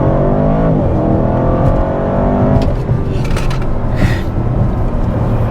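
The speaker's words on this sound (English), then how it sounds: "I know you all want to hear full throttle pull and the noise of that glorious V8 with the active exhaust turned all the way up" A 2024 Audi RS7 Performance V8 pulls at full throttle with its active exhaust wide open, engine harmonics rising hard and loud for over two seconds, then settling into a dense, roaring drive.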